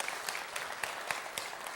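An audience at a NEAF 2019 talk applauds, with scattered, fairly faint claps at a loose, uneven rhythm over a quiet hall.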